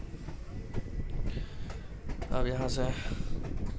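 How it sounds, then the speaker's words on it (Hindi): A passenger train pulls out of Rajnagar railway station on the Jaynagar–Madhubani line, its rumble and rattle of wagons building under someone talking nearby, with a brief screech partway through. "खुल रही है राजनगर रेलवे स्टेशन से ट्रेन"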